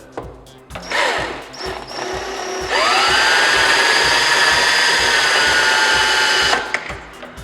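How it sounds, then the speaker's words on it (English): A small drill bit bores into a steel garage door jackshaft to mark it, the whine rising then holding steady at a loud, continuous pitch for several seconds, with a ratcheting start and stop, no talking. "I'm going to go ahead and mark the shaft here first with a smaller drill bit."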